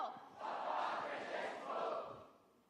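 A crowd waiting for Pope Francis cheers and chants in rising and falling swells of many voices, heard at moderate distance before fading out.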